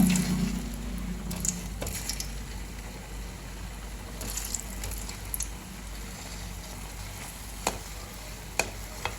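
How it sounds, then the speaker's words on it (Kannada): Milk powder jamun balls fry in hot oil over a low-to-medium gas flame, giving a steady soft sizzle with occasional stirring clicks and scrapes, close and continuous without talk. "ಉಂಡೆಯನ್ನು ಫ್ರೈ ಮಾಡ್ಕೋತೀನಿ ನೋಡಿ"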